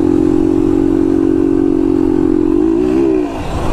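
A motorcycle engine revs steadily and loudly up close while riding near a creek on a rural trail, holding a strong even drone that rises in pitch and then drops off near the end.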